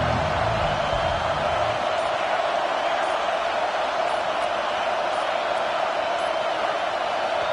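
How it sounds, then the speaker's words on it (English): Steady, loud stadium crowd roar at an American football game as fans get behind the home defense on third down, a broad sustained wash of noise that holds level throughout with no clear voices standing out. "Decibels rising as the crowd gets behind this defense on 3rd down."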